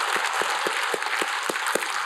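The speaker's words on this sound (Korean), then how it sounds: "우리 하나님께 영광의 박수드립니다" A church congregation claps in a steady rhythmic beat, each hand-clap distinct over a broad bed of general applause, fairly close and loud.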